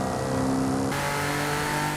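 A car engine in a racing video game revs hard and accelerates, its note steady and continuous, tuned by performance parts. There is no talk over it.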